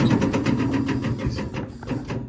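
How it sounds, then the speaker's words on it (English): Compressed air hisses out of an LMTV military truck's cab tilt system as the cab slowly lowers, a steady close rush with faint rhythmic pulsing that fades near the end, no voices. "that's literally air bleeding out"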